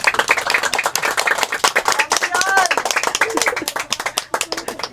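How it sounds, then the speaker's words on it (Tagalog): An audience claps together at a nighttime charity event, a steady patter of many hands that runs the whole time with voices talking over it. "palakpak nga kayo"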